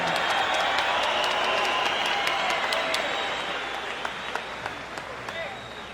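Boxing arena crowd applauding after a bout, a dense sustained wash of clapping and cheering that gradually fades, with scattered sharp individual claps standing out near the end.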